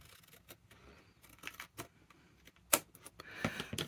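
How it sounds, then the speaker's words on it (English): Scissors cutting paper down a fold in a paper-craft setting, a series of quiet, close snips and crisp clicks with uneven pauses and no voices. "Now I'm going to cut directly down the bend, but then I'm going to cut this bit out."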